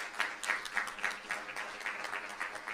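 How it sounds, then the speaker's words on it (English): An audience applauds an award winner named Classified Employee of the Year at a school board meeting, with a brief burst of steady, moderately distant clapping and no talk over it. "A big round of applause for Dennis Trujillo."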